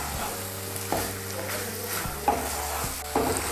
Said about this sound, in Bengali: আঁচটা বাড়িয়ে দিয়ে আমি 1-2 মিনিট নাড়াচাড়া করে নিয়েছি।